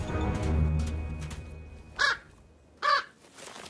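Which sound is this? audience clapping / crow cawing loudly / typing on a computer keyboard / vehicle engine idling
crow cawing loudly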